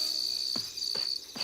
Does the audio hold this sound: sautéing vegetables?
no